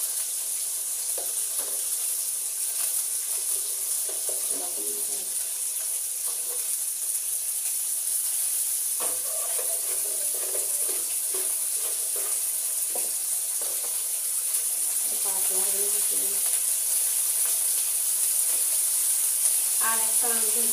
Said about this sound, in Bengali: মা এই যে ছোলাটা ভিজানো ছিল এইটা ভাজছে